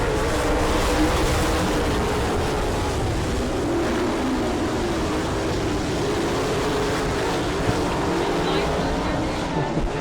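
Sprint cars roar off at the start of a heat race at Attica, Ohio, a loud, continuous pack of engines droning and rising together, with a race announcer faintly audible beneath the noise.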